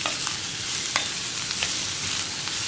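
Onions frying and being stirred in a pan for a Kerala hotel-style egg roast, a steady close sizzle with a few light scrapes of the spoon across the pan, no voices.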